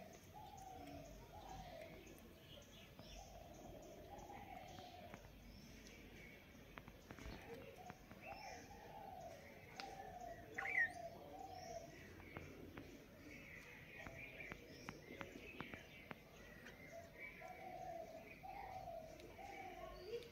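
Pigeons gather to eat biscuit crumbs scattered outdoors, cooing softly in repeated low phrases with faint chirps and light movement, distant and quiet throughout.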